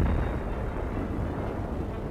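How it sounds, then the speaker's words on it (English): Naval gunfire from a British warship shelling the crippled German battleship Bismarck in World War II, heard as a continuous heavy low rumble of distant broadsides with no clear separate blasts. "British gunfire,"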